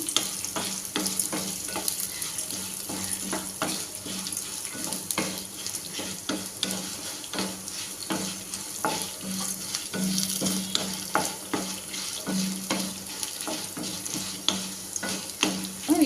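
Malabar spinach curry ingredients sizzle steadily in oil in a pan while being stirred, with frequent scraping strokes of the spoon throughout and no talking.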